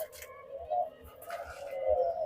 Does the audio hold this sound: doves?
yes